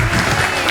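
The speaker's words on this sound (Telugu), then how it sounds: "ఒక్కసారి క్లాప్స్ కొట్టండి వాళ్ళ గురించి అయినా." A brief, loud burst of dense audience applause fills a hall during a stage event, steady and close throughout.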